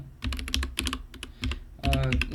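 Keys on an old mechanical computer keyboard being typed on, with clusters of loud, close clacks in irregular bursts and no speech.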